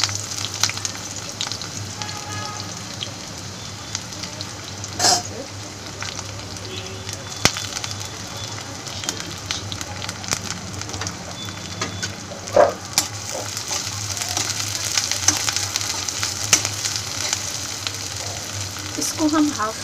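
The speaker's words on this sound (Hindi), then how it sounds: "इसको हम हाफ फ्राई करेंगे।" Green chillies and onion frying in hot oil for traditionally cooked fried rice, a steady close sizzle running throughout with a few louder bursts and clinks, and faint talk now and then.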